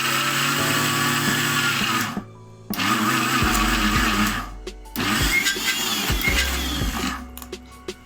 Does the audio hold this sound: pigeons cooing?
no